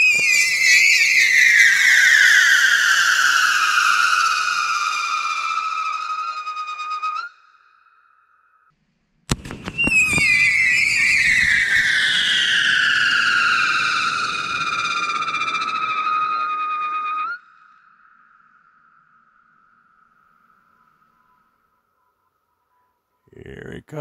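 Girandola firework launching with a crazy loud whistle: two long piercing whistles that slowly fall in pitch, each ending in a steady tone, with a sharp crack between them and a short burst at the end.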